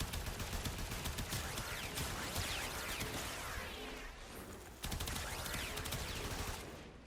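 Incarnon Braton gunfire in the video game Warframe: dense, rapid automatic shots rattle continuously and loudly, with a brief dip before another sustained burst.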